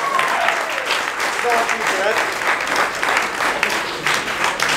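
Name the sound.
audience applause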